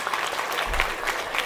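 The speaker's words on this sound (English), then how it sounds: "Let's hear a big round of applause for them." Sustained applause from an audience at a city council Diwali celebration, a steady wash of clapping hands throughout, moderately loud and fairly close.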